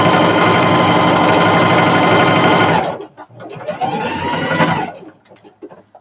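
A noisy sewing machine stitching down the edge of a fabric storage bin runs steadily and loud for about three seconds, then stops, leaving faint handling rustles and small clicks.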